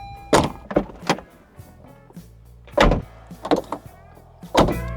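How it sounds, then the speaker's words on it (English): The door of a BMW M3 E30 closes repeatedly with a solid, loud thump each time: about six close, clean knocks in uneven pairs, heard alone. "Let's see first of all what the door sounds like in the M3."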